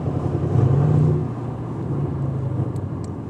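A car engine revs up with its exhaust flaps opened, a loud deep burst that swells near the start and then settles into a steady rumbling idle, heard close with no talking.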